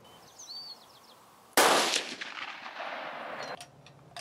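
A single loud, close rifle shot from a Swiss Model 1940 K31 at an outdoor shooting range, cracking sharply and then ringing out in a decaying echo over faint background birdsong.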